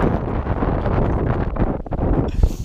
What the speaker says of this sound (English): This wind is insane.